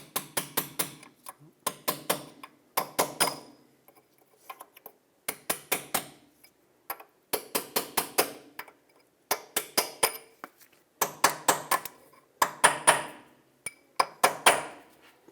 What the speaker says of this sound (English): Use a punch and drive it in to seat it all the way.